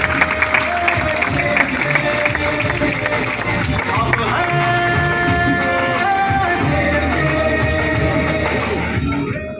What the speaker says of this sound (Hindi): जोरदार ताली बजाइए अपने आप से